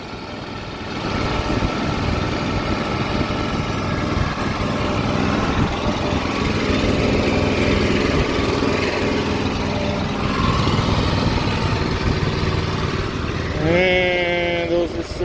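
A small engine driving a chemical pump runs loud and steady at close range for the whole stretch, with a brief rising whine near the end.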